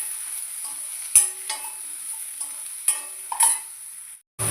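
Brinjals frying in a pan with a pinch of turmeric, a soft steady sizzle underneath occasional stirring clicks and scrapes before a brief silence near the end.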